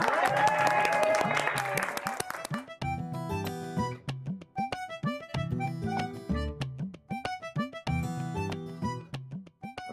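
An audience claps for the youngest amateur actors from a residential building before their short stage scene; a dense burst of applause fills the first couple of seconds, then gives way to rhythmic music.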